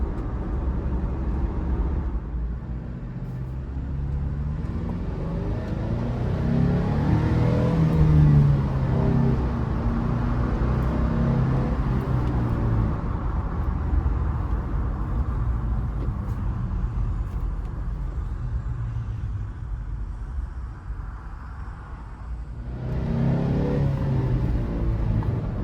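A 2002 Isuzu Rodeo Sport S drives along, its engine droning steadily under continuous broadband road and tyre noise, swelling a little as it accelerates midway and easing briefly near the end, heard from inside the cabin.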